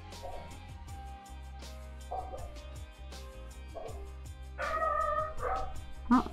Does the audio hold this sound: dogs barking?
yes